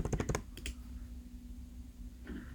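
A quick burst of computer keyboard clicks near the start, a couple more taps, then a quiet pause and one faint final tap, close and soft with no talking.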